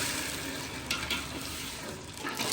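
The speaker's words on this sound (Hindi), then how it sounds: "इसको अच्छे से मिक्स करेंगे और इसकी चाशनी बनाएंगे।" A spoon stirs sugar and water in a pot to make syrup for a mutanjan sweet rice dessert, a soft continuous hiss and faint scraping throughout, fairly quiet with no talk.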